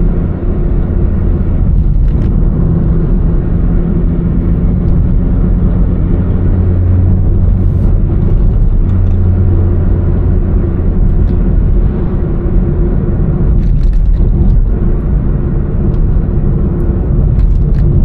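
A vehicle engine drones loudly and steadily with road rumble, shifting gears and accelerating to overtake, heard close and continuous without talk.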